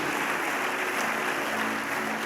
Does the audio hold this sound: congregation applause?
yes